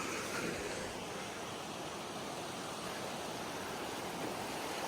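A creek flows beneath a bridge, a steady, dense rushing wash of water close by with no pauses.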